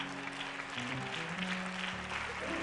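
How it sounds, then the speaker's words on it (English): Audience applause at a live gospel-style stage performance, a fairly soft continuous patter of clapping with sustained music tones underneath, no voices on top. "don't y'all clap for us, clap for yourself"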